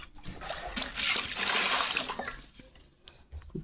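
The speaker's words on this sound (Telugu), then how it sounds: "ఈ కుక్కర్లో వాటర్ అయితే పాడేసాం." Water poured into a pressure cooker while preparing potato chicken curry, a close splashing, trickling pour that swells and then tapers off, with a few brief knocks at the end.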